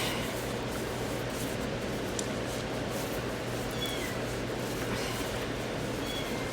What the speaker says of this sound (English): And I just got a tap on the back, which means there's a cat near my foot.